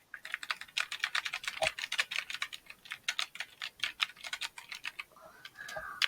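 Rapid, irregular keystrokes on a computer keyboard clatter close by for several seconds, then pause briefly before a final few taps, with no talk over them.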